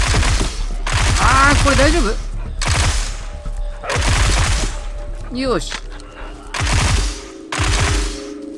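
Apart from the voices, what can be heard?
gunfire in the video game Into the Dead 2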